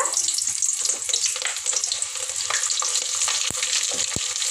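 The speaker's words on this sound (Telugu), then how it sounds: "నూనె అయితే వేడైంది ఉల్లిగడ్డ" Onion fries in hot oil in a pan for sambar, giving a steady loud sizzle with occasional stirring scrapes close by and no talking.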